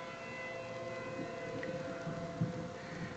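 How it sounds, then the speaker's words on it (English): Tornado warning sirens in Wylie, Texas wail steadily from a distance, a sustained droning tone over outdoor background noise with no talking. "yeah, the sirens are screaming"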